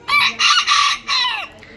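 A tiny serama rooster crows nearby, loud and clear, a single call broken into several rising and falling bursts, with nothing else heard around it.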